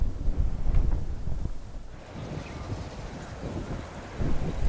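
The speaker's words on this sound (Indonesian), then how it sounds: "di kaldera atau lautan pasir Gunung Bromo di Kabupaten Probolinggo terjadi badai pasir" Strong sandstorm wind sweeping across the sand sea caldera of Mount Bromo in Probolinggo, a loud, rumbling, buffeting roar that swells, dips in the middle and rises again, with heavy gusts hitting the microphone.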